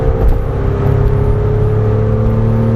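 A Porsche 911 accelerates hard around a race track, the engine note loud and close as a steady, slowly rising drone with no break or gear change.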